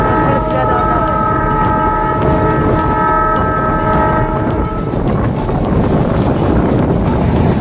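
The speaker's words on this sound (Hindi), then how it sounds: "ट्रेन जा रही" Meter gauge train running through Dudhwa forest at close range, with a steady heavy rumble and rattle, a sustained horn for about five seconds, and wind buffeting the microphone throughout.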